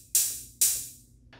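Two crisp synthetic hi-hat hits from the percussive oscillator of a Teenage Engineering TX-6 field mixer synth engine, bright and hissy with quick decays, spaced about half a second apart, followed by a fainter third tick.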